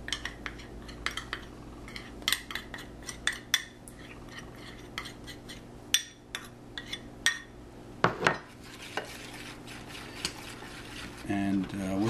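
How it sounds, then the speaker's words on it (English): A whisk mixes tahini sauce with lemon, garlic and salt in a bowl, giving quick irregular metallic clinks and taps against the bowl throughout, close and fairly soft. "And whisk them real good so that all of the tahini sauce is melted and blended into the lemon."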